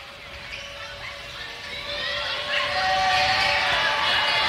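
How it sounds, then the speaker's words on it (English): Crowd noise fills a gym during a men's college basketball game, Coffeyville Red Ravens vs Seward Saints, at a free throw. The broad roar swells louder halfway through, with tonal sounds running underneath. "Crowd is very much in this one."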